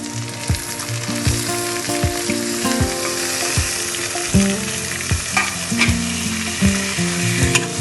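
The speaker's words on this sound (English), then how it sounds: "Now this we are going to saute for about 5 minutes or so till the tomatoes become mushy." Chopped tomatoes saute in a pan for sarson ka saag, a steady close sizzle with frequent scraping stirs and clinks of a spoon against the pan, loud and continuous with no voices.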